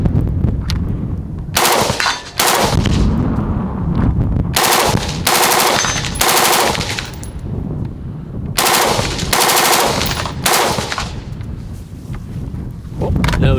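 Bursts of automatic fire from a Steyr AUG A2 rifle fitted with an FRT SSAUGv2 trigger and a preban LMG barrel, shooting M193 IMI ammunition; several loud, rapid strings of shots close by, separated by short pauses.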